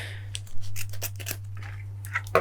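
Ribbon scissors clink and snip close by in a quiet room while making a flower crown, with a few short metallic handling sounds over a steady low hum.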